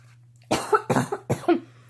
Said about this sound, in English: I think I'm coughing from the crystals.